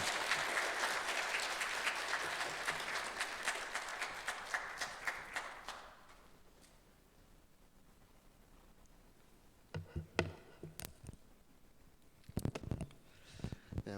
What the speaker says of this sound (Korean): 큰 박수로 환영해 주겠습니다.